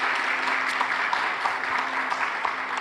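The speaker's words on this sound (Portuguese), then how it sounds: "Pode dar uma salva de palmas a ele." A church congregation applauds steadily throughout, a dense, even wash of many hands clapping that sounds fairly distant and subdued, with no clear speech on top.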